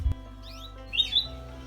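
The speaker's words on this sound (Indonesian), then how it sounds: "Niku kan kathah manuk ya Mas." Canaries at a village breeding aviary give two short bright chirping phrases, close and moderately loud, over a low steady hum.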